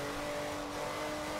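A car with four exhaust tips in Forza Motorsport 7 drones at high revs under hard acceleration, holding a steady, close, sustained engine note without anyone speaking.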